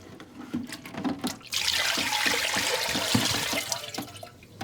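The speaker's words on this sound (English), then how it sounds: "we have a built-in water hose right on the side so we can shoot the sides, make sure we get all the residue" Built-in water hose spraying inside a batch freezer tub to rinse flavor residue off the sides, a steady loud hiss that starts abruptly after some faint clatter and runs continuously to the end.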